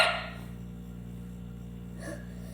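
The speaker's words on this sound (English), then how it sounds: "Wait, did I just hiccup too?" A single sharp hiccup comes at the start, then a second, softer hiccup-like catch about two seconds later, both heard over a steady low hum.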